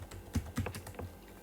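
Typing on a computer keyboard during a language lesson: a short run of crisp, close key clicks, a few louder strokes standing out, with no talking.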